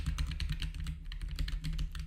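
Computer keyboard keys being pressed for game movement input, a rapid steady run of close clicking taps over a low background hum.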